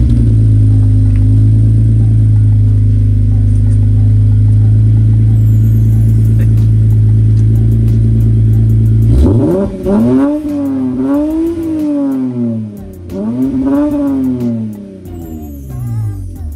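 A Lexus IS300 with blast pipes, first a loud steady idle rumble, then several sharp revs rising and falling, close and raw.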